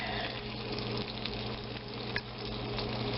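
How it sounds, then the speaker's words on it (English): Raspberry brioche bread pudding sizzles gently in a pan, a steady soft crackling hiss that stays faint and even, with a small clink near the end. "I don't know if you can hear it's almost like a sizzling sound"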